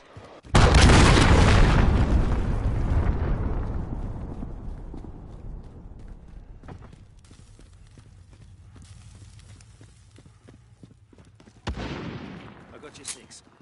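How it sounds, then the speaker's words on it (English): Enemy cruise missiles exploding in a video game: a huge, close blast that rumbles and slowly decays, scattered crackling debris, then a second sharp blast near the end. "Enemy cruise missile incoming."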